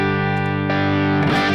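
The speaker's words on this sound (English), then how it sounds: "I put a boost pedal in front of an overdriven amplifier, I am going to push the front end of the amplifier into more distortion" Electric guitar played through a boost pedal into an overdriven amplifier: a loud, sustained distorted chord rings out, then a second chord is struck with a brief rough attack.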